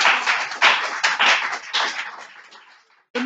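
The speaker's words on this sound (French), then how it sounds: "Moi, je veux que l'église applaudisse." A church congregation claps in a dense burst of many hands that swells and fades over a few seconds before cutting off into near silence.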